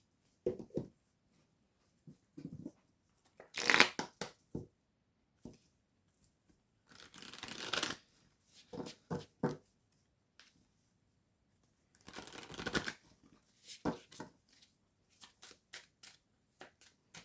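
Oracle cards from a fairy-themed guidance deck being shuffled, giving bursts of soft papery riffling and sliding that come and go in short clusters, with quiet pauses between and no talking.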